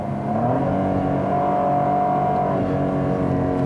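A 2018 Cadillac ATS-V sports sedan on Michelin Pilot Super Sport tires being driven, its engine holding a loud, steady, close drone that swells slightly mid-way.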